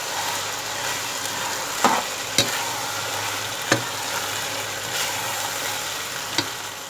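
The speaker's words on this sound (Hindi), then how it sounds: "दही को अच्छी तरह मिक्स करेंगे।" Yogurt being stirred into sizzling keema in a pan, a constant frying hiss with a few sharp spoon knocks against the pan, close and steady, no talk.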